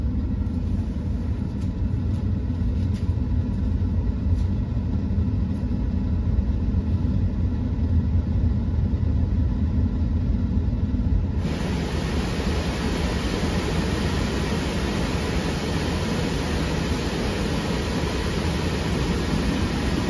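Air blasts from the vents of a Tesla Model 3/Y at full fan speed, a steady broadband rushing that jumps noticeably louder and brighter partway through when the cabin air filter is removed.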